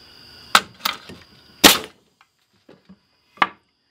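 An air nail gun, freshly repaired after a leak, fires in several sharp, loud cracking bursts with short gaps between them, followed by quieter clicks and one final shot, close and unaccompanied by talk.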